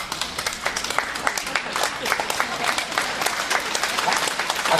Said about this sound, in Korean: 박수 칠 때는 빨리 같이 치라고